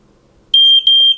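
A smoke detector being coded to a GSM burglar alarm lets out two loud, piercing electronic beeps, a long shrill tone, a short break, then another, following a faint murmur.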